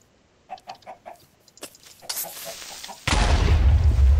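Minecraft chickens give a few short, soft clucks in quick succession inside the video game, followed by scattered clicks and then a loud, rumbling burst that swamps the end.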